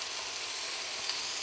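Steady, dense sizzling of bacon frying in a hot pan beside burger patties, a continuous crackling hiss with no speech.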